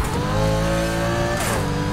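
A race car in Need for Speed Heat holds a steady, loud engine drone, then its pitch drops sharply as the car shifts or brakes, with a brief rushing burst, no talk over it.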